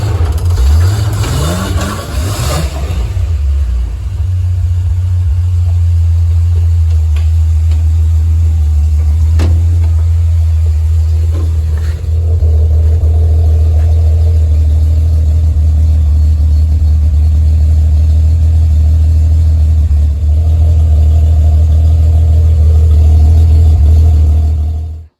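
A Datsun 240Z engine revs while driving, opening with a rising rev, then settling into a loud, steady, close low rumble under acceleration that holds throughout with no talk.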